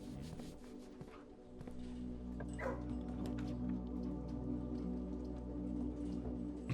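A dog in the video game Blue Prince gives a few short yips and soft barks over a steady hum of game music and ambience, fairly quiet and intermittent, with no talk.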